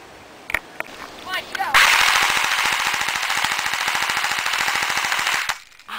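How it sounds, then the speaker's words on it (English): A toy gun fires a rapid, steady burst of repetitive clicking shots that lasts about four seconds at close range, preceded by a few handling knocks and followed by brief voices. "So I am going to be shooting Erik with this gun."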